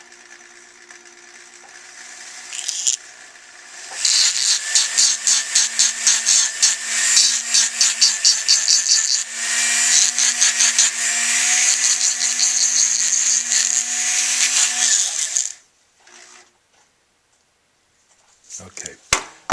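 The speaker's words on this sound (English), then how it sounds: "it's going to be easier to get that out with a file" Rhythmic rasping strokes of a file working a bass clarinet mouthpiece at a refacing bench, a long run of quick close scrapes under a steady hum, stopping abruptly, then a few faint taps and handling sounds.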